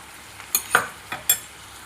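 Ivy gourd (dondakaya) frying in a pan while being stirred, several short scraping and clinking strokes of a utensil, close and crisp over a faint background sizzle.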